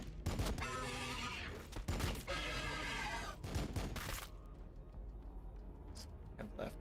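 Gunfire from units in the Warhammer 40K Battlesector video game erupts in loud, dense bursts of shots across several seconds, then thins into a few scattered shots.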